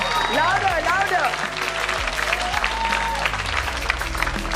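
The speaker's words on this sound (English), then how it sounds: "Can we have a big, big, big round of applause?" Audience applause at an award presentation, a steady wash of clapping held across the whole moment at moderate distance, with a voice calling out over it at the start.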